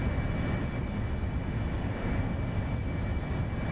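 An IndiaFoxtEcho F-35B Lightning jet held at max throttle in MSFS 2024 produces a steady, even engine roar with a thin high whine, heard from inside the aircraft.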